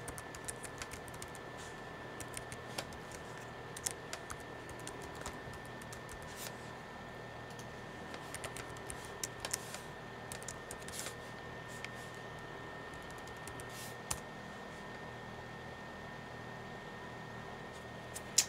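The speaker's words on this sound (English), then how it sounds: "So then you type in your logon information." Login information typed on a computer keyboard, a long run of faint, close key clicks in irregular bursts with a few sharper taps, over a low steady room hum.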